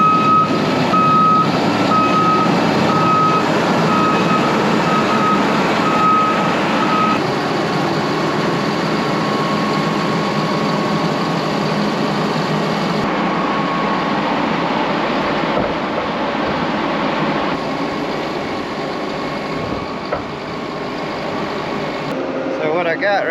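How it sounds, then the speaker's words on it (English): A Rogator self-propelled sprayer on a hay farm pulls out with a steady, loud diesel engine rumble and a repeating reversing beep, which stays close and continuous before fading slightly near the end. "So let's get this Rogator out of here"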